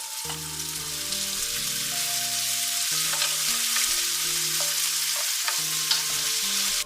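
Peppers frying in a pan make a steady, moderate sizzle with occasional light crackles and utensil clicks, accompanied by a low tonal background hum; no one speaks.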